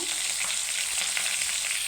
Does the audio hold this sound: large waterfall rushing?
no